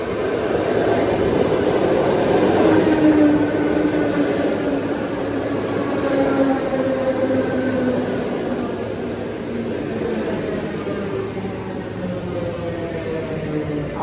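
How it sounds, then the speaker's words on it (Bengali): A Moscow local commuter train pulls in at the platform with a continuous loud rumble and wheel noise over fourteen seconds, slowly easing in level, with no clear talk over it. "এই যে এই লাইনে আমার ট্রেন অলরেডি চলে এসেছে।"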